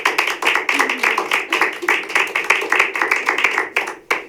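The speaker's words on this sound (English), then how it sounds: "Let's give them a round of applause." Audience applause at a survivor theater performance, a few hands clapping in uneven bursts with short gaps between them, fairly close and moderately loud.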